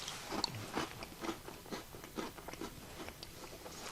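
Someone bites and chews freeze-dried bread pudding, with faint, close crunching and mouth sounds repeating steadily in quiet surroundings.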